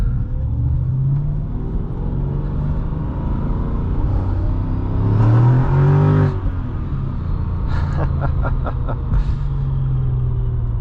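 2006 Mercedes-Benz E55 AMG W211 accelerating hard, a loud deep engine roar rising in pitch through the gears with a surge midway and a rapid stuttering burst near the end, no talking.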